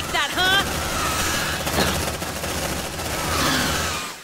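The player's gun in Aliens: Dark Descent fires in a sustained, dense burst of automatic gunfire that fills the scene, with a brief voice heard at the start.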